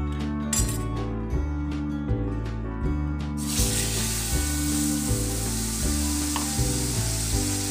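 Mango pulp hitting melted sugar in a pan for mango halwa, giving a loud, steady sizzle with occasional clinks of a stirring utensil, close up and with no talking.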